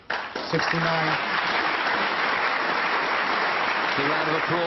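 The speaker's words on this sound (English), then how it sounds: "The round of applause from this knowledgeable, crucible audience" Crucible snooker audience applauding a century break by Ronnie O'Sullivan against Barry Hawkins, a sustained loud wash of clapping filling the hall, with a commentator's voice briefly audible at the start and near the end.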